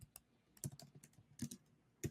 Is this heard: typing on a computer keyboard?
yes